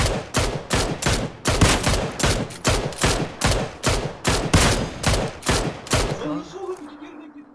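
Rapid bursts of gunfire from the battle royale game PUBG on the Miramar map, about sixteen loud, evenly spaced shots in a steady rhythm, then a short quieter tail as the firing stops.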